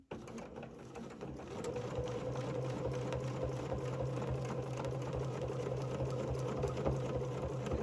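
A sewing machine runs steadily and evenly while stitching a placemat, a close, continuous mechanical whir with no pauses and nobody speaking.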